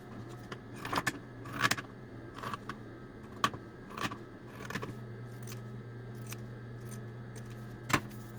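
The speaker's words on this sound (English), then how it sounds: "pink with your pinking shears both of these seams" Pinking shears snipping along the seam allowances of a fabric drawstring gift bag, a scattered series of short crisp cuts at uneven intervals over a steady low background hum.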